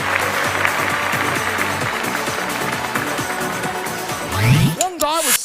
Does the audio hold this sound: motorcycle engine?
no